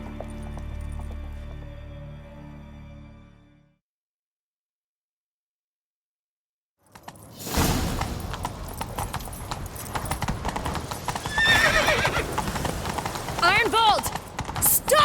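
Horses gallop in The Witcher 3, their dense, rapid hoofbeats thundering close and loud after a brief silence, following a soft tonal passage at the start.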